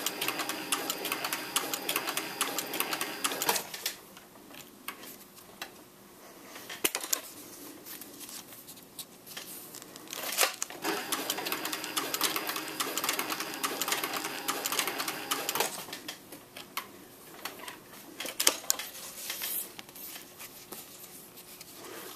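A sewing machine stitches a leather belt slip cartridge holder in bursts, rapid mechanical clattering runs of a few seconds each, separated by quieter pauses with handling noise.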